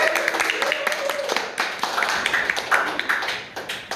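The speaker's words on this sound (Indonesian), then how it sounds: "Jawabannya benar ya, tepuk tangan dulu." Children clap in a classroom lesson, a loose scattering of sharp, uneven hand claps at close range, with voices talking over them.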